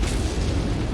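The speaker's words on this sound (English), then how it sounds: "Reactor explosion imminent." A reactor explosion in the mech combat game MechWarrior 5: Mercenaries: a loud, dense, rumbling boom that fills the whole second with deep, sustained roar and no break.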